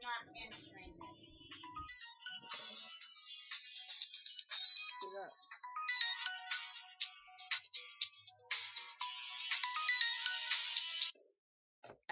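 A phone ringtone plays loudly and continuously, a busy electronic melody repeating for most of the span before cutting off near the end, with a brief stretch of low voice-like sound at the start.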